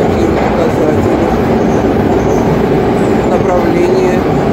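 Inside a new train carriage riding toward Peterhof, a loud continuous rumble and rattle of the moving car, with a faint murmur of voices beneath.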